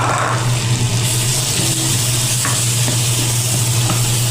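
Garlic and onion sautéing in butter for a Batangas-style beef caldereta, producing a constant close sizzle with light stirring scrapes over a low steady hum.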